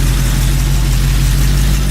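A car engine idling nearby, a loud, steady low-frequency rumble that stays constant with no revving and no talking.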